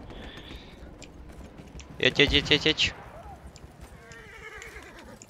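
A horse in the video game Battlefield 1 multiplayer gives a loud, shaky whinny midway through, set against battle ambience, with someone speaking briefly.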